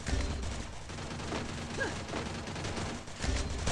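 Bursts of rapid gunfire in the Free Fire video game during a 4v4 squad match, a dense, continuous rattling fusillade with mechanical clatter, close and steady for several seconds.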